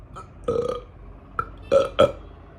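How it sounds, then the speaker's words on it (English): Several short, croaky burps in quick succession, close and fairly loud against a quiet background. "Hey, that guy just burped"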